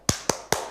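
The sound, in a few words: rhythmic 'tepuk semangat' clapping chant by class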